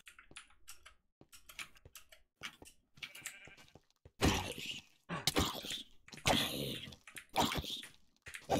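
Sheep in Minecraft bleat in several loud, close bursts during the second half, following quieter clicking that sounds like keyboard typing.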